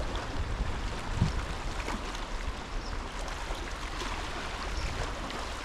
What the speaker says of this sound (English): you can like enjoy the waves here